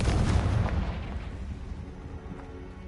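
In the video game Hogwarts Legacy, a Confringo spell blast goes off as one loud explosive boom that decays over a few seconds, alone with no talk.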